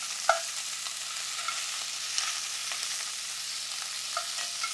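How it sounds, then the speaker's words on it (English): Chunks of beef stew meat searing in a hot pan, a steady broadband sizzle with a few faint clinks and stirring noises over nearly five seconds. "we want it to sear on the meat"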